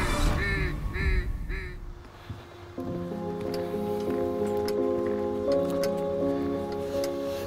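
Wild ducks and geese over a Manitoba prairie pothole: a few loud honking and quacking calls close by at first, then a long sustained tonal drone holds steady for the rest of the clip.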